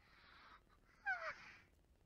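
Cartoonish bird caws in the Talking Angela video game, a short burst of squawking calls rising to one louder caw near the middle over a soft background.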